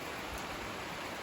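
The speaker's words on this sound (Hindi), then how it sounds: "it's raining" Steady rain falling outside a tent in the mountains near Tapovan, a dense continuous hiss with no distinct drops, fairly quiet and uninterrupted, with no voices.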